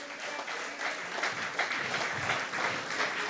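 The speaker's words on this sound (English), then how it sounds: "Vance Emery needs a rapturous round of applause" Steady, dense applause fills a hall at a political party convention, a continuous crowd clapping at constant loudness for the full few seconds with no voice over it.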